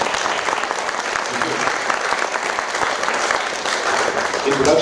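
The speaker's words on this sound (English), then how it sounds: "so big round of applause for her." Theatre audience at a mono acting festival in Chandler Theatre claps steadily for performer Anjali Lele, a continuous, moderately loud wash of applause.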